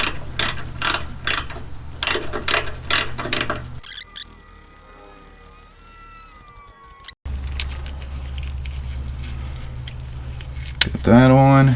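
Ratchet wrench clicking in quick bursts as a 14 mm bolt on a ground strap is tightened on a 2001 Ford F150 SuperCrew, loud and close at first, then giving way to quieter shop noise and a low hum.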